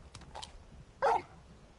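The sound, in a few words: Torgal the dog barking in Final Fantasy 16 video game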